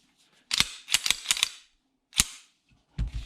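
A Zastava M57 pistol being cleared and checked empty: a run of sharp metallic clacks and snaps, four close together, then a single click and a final thump, near and loud with no talk.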